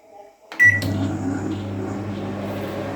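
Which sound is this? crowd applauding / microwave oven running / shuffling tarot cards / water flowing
microwave oven running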